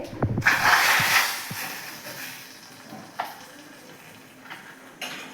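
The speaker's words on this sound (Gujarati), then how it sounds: "અહીંયા લીમડાના પાન અને આપણે સૂકું લાલ મરચું પણ નાખવાનું છે આને તરત હલાવીને કઢીની અંદર નાખી દેવાનું છે" Curry leaves and dried red chilies crackle in hot oil for a kadhi tempering. A sharp, loud sizzle bursts at the start, then settles into a quieter frying hiss with a few light stirring clicks, and no one speaks.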